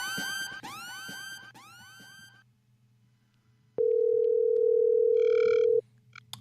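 A telephone call fails to connect: three fast rising sweep tones, a pause, then a single long steady tone with a brief higher beeping near its end, loud and clear without talking.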